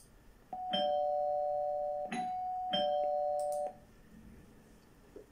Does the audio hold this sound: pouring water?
no